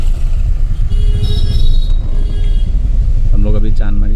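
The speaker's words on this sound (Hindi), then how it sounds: "ये बहुत बिजी रोड है, ये बहुत ट्रैफिक जाम है" Busy jammed road traffic in Guwahati, a loud close rumble of car and motorcycle engines with passing vehicles and a burst of horn honking near the end, while someone talks over it.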